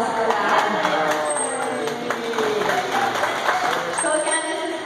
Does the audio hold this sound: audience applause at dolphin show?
yes